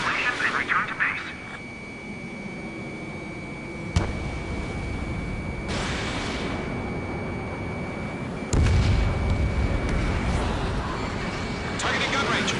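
Heavy bombing of ground installations in the jet combat game Ace Combat 7, with deep booming blasts and rumbling impacts rolling under continuous aircraft engine noise and a steady high tone, some louder bursts near the start and later on.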